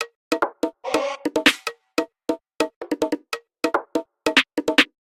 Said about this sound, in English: So I layered other percussions and together they sound like this.